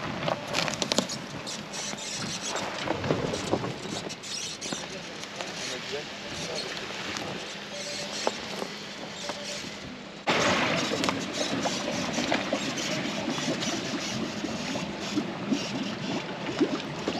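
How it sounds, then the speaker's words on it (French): A motor engine drones steadily with a wash of water and some background voices, then grows slightly louder partway through, as the engine of a flyboard setup warms up while struggling. "ma femme va chauffer le moteur parce que le moteur il peine"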